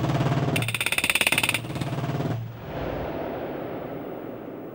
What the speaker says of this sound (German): errechnet das Waffensystem in Bruchteilen von Sekunden, wann und welche der vier Kanonen optimal wirken kann und schießt